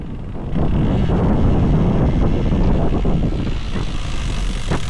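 Strong wind at a race paddock buffets the microphone, making a loud, continuous low rumble and roar that swells after the first half second and holds steady, with no talking.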